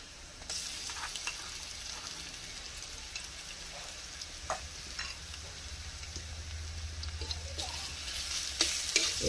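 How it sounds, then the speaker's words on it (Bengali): Ginger garlic paste fries in a pan while being stirred, giving a steady low sizzle with occasional scraping and clinking of the spoon, quiet and close up. "একটু নাড়তে থাকবো এটা।"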